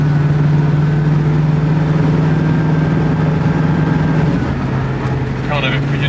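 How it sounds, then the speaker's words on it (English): A 1966 Ford Mustang GT V8 engine drones steadily at a constant low roar throughout while driving, with a faint rattle and some brief higher clicks near the end. "I expected the engine to be noisy, but maybe not this noisy. There's this constant sort of roar from the front."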